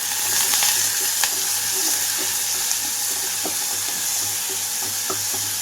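Onions, green chillies and curry leaves frying in oil on medium flame, a steady close sizzle with occasional stirring scrapes and small clicks over a low constant hum.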